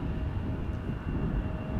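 An Embraer 175 taxis at Amsterdam Schiphol, a brief steady low jet engine rumble with a faint whine, moderately loud and constant, no voices.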